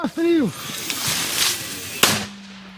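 A mortar fires a sharp blast at the start and a second loud crack near the end, each followed by ringing, with a voice calling out in between.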